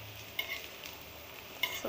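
Bamboo shoot pitha fries in a little oil, giving a soft, steady sizzle close by, with two faint clicks partway through.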